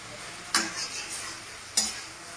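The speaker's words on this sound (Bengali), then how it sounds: "এবার আমি মশলার সাথে চিকেনটাকে ভালো করে মিশিয়ে নেব। এটা তেলেই ভাজা হবে" Chicken is mixed with spices in frying oil under a soft steady sizzle, with two sharp spoon scrapes against the pan about a second apart.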